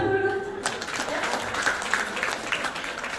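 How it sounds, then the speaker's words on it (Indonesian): Seminar audience at a health talk breaks into applause after a short opening sound, with steady clapping filling the rest of the moment alongside some voices. "Tepuk tangan dulu."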